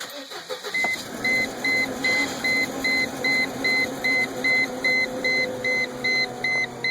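A Mercedes SLK230 engine cranks and fires up close by, settling into a steady idle while a regular chime beeps repeatedly over the running motor.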